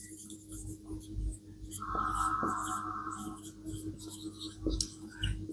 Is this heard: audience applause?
no